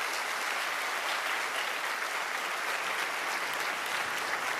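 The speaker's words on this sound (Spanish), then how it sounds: "lo recibimos con un aplauso y le damos la bienvenida" Church audience welcoming a guest with a warm, steady round of applause, dense and even from start to finish with no voices over it.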